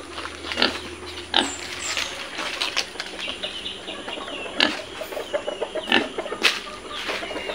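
Young pigs in a farm pen give off close grunts and snorts, with chickens clucking and wings flapping nearby in a busy, uneven livestock mix.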